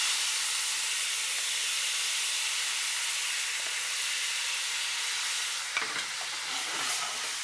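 Sauce hitting a very hot empty pan, a loud steady sizzle and hiss that continues throughout with a slight disturbance near the end.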